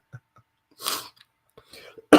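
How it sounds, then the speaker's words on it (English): A single rough cough bursts out near the microphone from a man on a livestream, surrounded by brief mouth noises and breaths, then a sharp loud onset at the end. "I was that cough was coming up."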